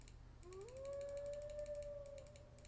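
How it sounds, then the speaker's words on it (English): Wolf howling in the survival game The Infected, one long sustained rising then level howl over a steady rhythmic mechanical ratcheting and low background hum, moderately faint and with no talk. "Hear a wolf. I wonder if he's close by."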